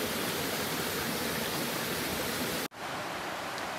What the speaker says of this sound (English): There's the creek down there again.